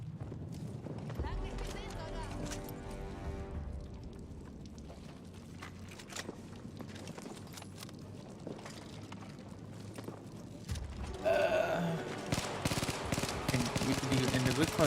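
Repeated weapon fire from a video game with an extended-magazine-free loadout, rapid bursts mixed with busy game sounds and music, growing louder and denser near the end, with someone talking over it.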